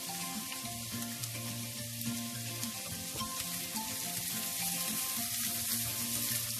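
Button mushrooms and onion fry together in a pan, giving a soft, continuous sizzle with occasional stirring clicks, fairly quiet and close.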